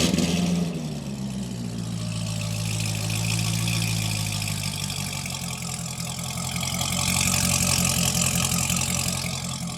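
A Toyota Supra engine starts and settles into a steady idle, a low rumble running close and continuous with slight swells in level.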